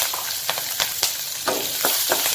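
Curry leaves and green chilies fry in hot oil in a pan, a steady close sizzle broken by sharp crackles and pops, with a few louder spits as they are stirred.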